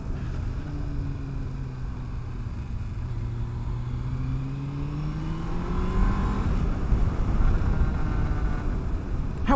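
Honda Hornet CB600F motorcycle riding on a 60 mph road: a steady engine note rising in pitch as it accelerates, with wind rush, loud and close, no talk.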